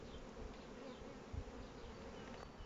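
Black honey bees humming around an opened hive during an inspection, a steady close, continuous buzz with individual insects passing near, no voices.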